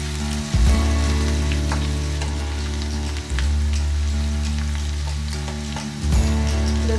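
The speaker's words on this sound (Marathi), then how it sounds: "लसूण टाकतोय लसूण आणि हिरवी मिरची दोन्ही एकत्र करून भाजून घ्या" Garlic and green chillies frying in hot oil for an amaranth leaf stir fry, a steady close sizzle with a low hum beneath and a few brief bursts as the pan is stirred, no voices.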